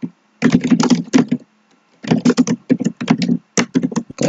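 Fast, close typing on a computer keyboard while entering text in Microsoft Word: dense bursts of clicking keys, a pause of about half a second, then more rapid keystrokes.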